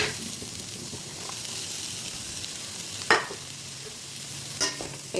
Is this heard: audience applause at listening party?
no